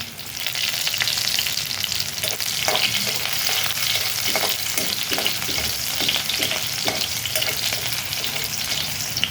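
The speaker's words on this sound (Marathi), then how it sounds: "तेलात मिरच्या लसूण छान झाल्या" Green chillies and garlic frying in hot oil, a loud and constant close sizzle with soft stirring knocks through it and no one speaking.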